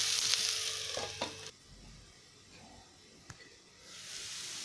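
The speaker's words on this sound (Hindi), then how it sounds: "इसको धीमी आंच पे ढक के थोड़ा सा पकाएंगे।" Capsicum bhurji cooking in a pan on a low flame, with a short frying sizzle and clatter at the start giving way to a quieter hiss, a single sharp tap, then rising sizzle again.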